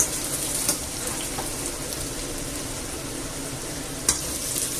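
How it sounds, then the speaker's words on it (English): Potatoes tipped onto pork already frying in a pan, giving a steady, dense sizzle with a couple of brief clatters. "I'll chuck all the potatoes onto the pork."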